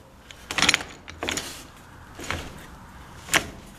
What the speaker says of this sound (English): Sliding back door.